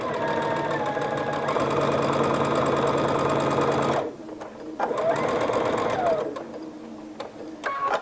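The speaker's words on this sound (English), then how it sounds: "at your sewing machine, stitch along this inside folded edge all the way down the full length of the strip." A sewing machine stitches along the folded edge of a towel strip, a fast steady mechanical whir and tick running for four seconds, pausing, then resuming briefly with a voice speaking nearby.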